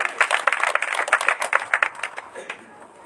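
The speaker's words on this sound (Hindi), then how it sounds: "जोरदार तालियों से स्वागत करें।" A crowd at an outdoor political rally in Gandhi Badi claps to welcome Rajendra Jalandhara. Dense, fairly close hand claps beat in uneven bursts, then thin out and fade toward the end.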